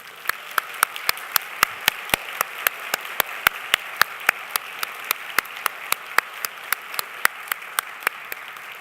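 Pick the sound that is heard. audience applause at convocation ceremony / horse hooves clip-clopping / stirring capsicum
audience applause at convocation ceremony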